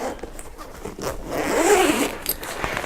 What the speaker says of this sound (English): You unzip the back like this.